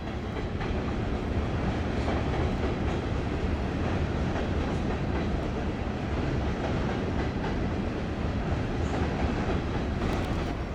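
A Union Pacific eastbound freight train rolls steadily and loudly across the Sacramento River, with a continuous rumble and faint clacking of wheels, no voices.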